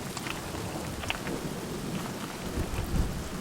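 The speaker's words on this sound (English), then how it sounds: "if we look up to the north, we're getting rumbles out of that stuff" Distant thunder from a severe storm over the Southern Tablelands rumbles low and steady throughout, mixed with the patter of falling rain and occasional brighter drops, with no voices.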